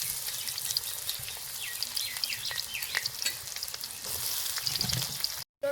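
Cumin, dried chili, crushed garlic and chopped onion fry in hot oil with a close, busy sizzle and crackle, broken by stirring scrapes and a brief cut near the end.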